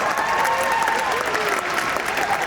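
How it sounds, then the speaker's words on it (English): Steady, dense clapping from a sizable convention panel audience at WonderCon 2019 in Anaheim fills the whole stretch, loud and continuous with a faint crowd murmur underneath. "you can applaud if you want now"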